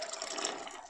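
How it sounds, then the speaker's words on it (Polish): Hot thyme and dandelion syrup poured into jars, a brief, fairly close splashing stream of liquid with no talking. "I teraz gorący nalewam do słoików"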